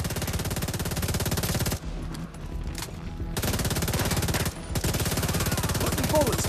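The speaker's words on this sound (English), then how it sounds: "Putting bullets downrange." Automatic weapon fire in the video game The Division 2 rattles in rapid, dense bursts, loud and close, with a brief pause near the middle and a short gap later before the firing resumes.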